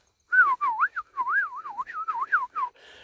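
A voice whistles a wavering, flute-like tune of quick rising and falling notes, imitating the airy whistle of a bird's wings in flight.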